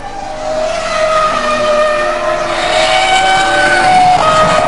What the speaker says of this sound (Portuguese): vai embora o motor Renault, vai embora o motor do Alonso